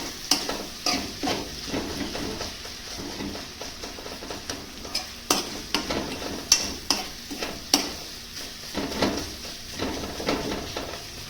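Flat bean and tomato sabzi stirred and pressed in a pan, soft tomatoes being mashed as it cooks: close scraping stirs and spoon knocks over a gentle sizzle, irregular strokes throughout, no voices.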